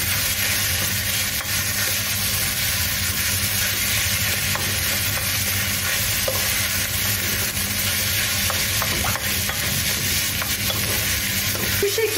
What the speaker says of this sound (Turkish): Eklediğim lahanaları soğan ve salçayla karıştırıp kavuruyorum.